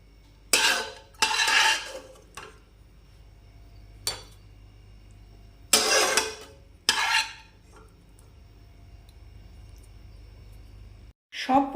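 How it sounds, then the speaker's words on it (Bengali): Fried paneer pieces and fried onions are tipped into a pan of methi paneer gravy and stirred, giving several scraping, clinking bursts of a spoon against the pan with quiet gaps in between. "সব পনিরগুলো আর ভাজা পেঁয়াজটা এর মধ্যে ঢেলে দিলাম"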